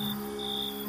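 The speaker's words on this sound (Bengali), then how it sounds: "চারিদিকে শুধু রাতজাগা পাখি আর ঝিঝি পোকার ডাক ছাড়া আর কিছুই শোনা যাচ্ছে না।" Crickets at night in a deserted rural village make a steady, high, continuous trill over a low constant hum, unbroken and moderately loud.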